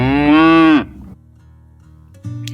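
A cow gives one loud, close, drawn-out moo inside a thick-walled sod stable during a blizzard, then falls quiet as a low steady hum continues beneath, with no talking.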